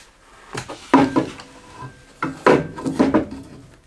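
Metal shipping bracket removed and a rear support slid into an Echelon Connect exercise bike frame, a series of close scraping clanks and rattling knocks in irregular bursts, with no talking.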